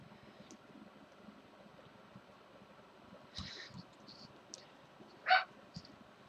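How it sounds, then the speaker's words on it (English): A pet dog indoors at a front window lets out a couple of short, faint barks over quiet room tone, the second one louder. "My dog, she can see out the front window, so she's going to bark at anything that she sees."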